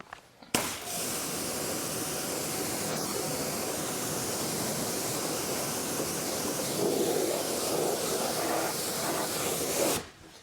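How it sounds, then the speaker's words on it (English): A hose nozzle sprays water to rinse a Tesla Model 3 wheel, a steady loud hissing rush lasting about ten seconds with a slight swell near the end, starting and stopping abruptly with no voices. "let's grab our nozzle and get this wheel rinsed off"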